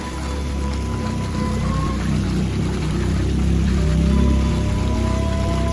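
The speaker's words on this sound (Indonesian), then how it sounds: "mata air mengalir dari kedua belah susuh dari Dewi Sri" Spring water trickling and splashing steadily from the breasts of an ancient stone statue of Dewi Sri at an 11th-century brick bathing place at the foot of a mountain, a continuous close wash of flowing water.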